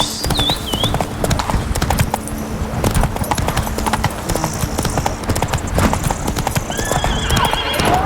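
Roach, Geralt's horse in The Witcher 3, gallops with loud, steady clip-clopping hooves throughout, broken by whinnying neighs near the start and again toward the end.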